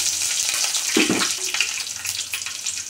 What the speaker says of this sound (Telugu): పచ్చిమిరపకాయలు, కరివేపాకు ఇప్పుడు వేగనిచ్చుకొని తింటున్నాం